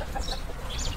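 A rooster in a neighbour's village yard clucks agitatedly, giving soft, quiet clucks at a moderate distance over faint outdoor background noise.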